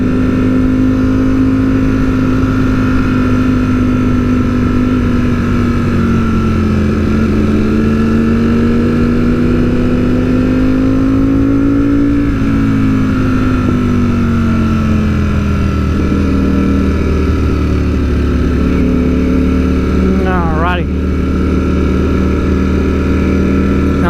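A Ducati Streetfighter V4S and a Ducati 1299S Panigale run through hilly roads, their engines droning loud and close, with pitch rising and falling through the revs and a quick shift late on.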